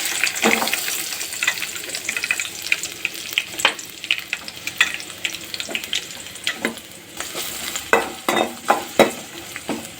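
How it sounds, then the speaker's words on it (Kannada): Onions frying in oil in a deep pan for an egg curry, a steady close sizzle with frequent sharp scrapes and clinks of a spoon stirring throughout, no voices. "ಫ್ರೈ ಮಾಡ್ಕೊಳ್ಳೋಣ"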